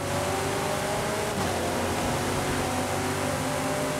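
Race cars in Forza Horizon 5 drone continuously in a steady, dense engine roar at constant level, with a faint brief transient partway through and no voices.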